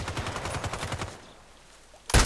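Rapid gunfire in the Contract Wars shooter at a lighthouse map, a fast automatic burst for about a second, a quiet pause, then one loud close shot at the end.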